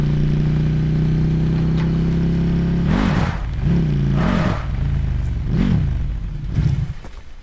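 A motorcycle engine in Call of Duty Blackout idles with a low steady drone, then revs in several rising and falling bursts, close and loud, with no talking.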